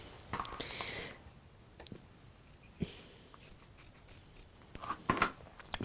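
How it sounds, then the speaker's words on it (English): Small scissors cut through fabric in a textile craft session, giving scattered sharp snips and crisp rustles, close and moderately quiet, with a louder cluster of cuts near the end. "make enough of a hole and either cut or then get your little scissors."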